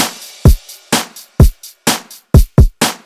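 Programmed FL Studio drum beat from a song remake: punchy booming kicks alternate with bright crash cymbal hits in a steady, driving pattern, loud and dry, with no voices.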